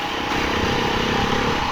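A Beta 390 RR enduro motorcycle engine runs with a steady, buzzing drone, heard up close and fairly loud throughout the short moment.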